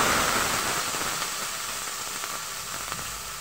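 Diced potatoes fry in hot oil with whole cumin seeds and curry leaves, making a steady, close, dense sizzle that fades slightly over a few seconds.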